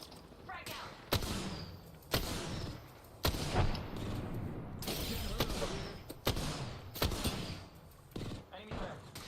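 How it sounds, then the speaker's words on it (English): Gunfire in a shooter video game cracks out as sharp, loud shots in an irregular sequence over a few seconds, mixed with mechanical clatter and game effects, while players talk underneath. "Hey, they're shooting at me."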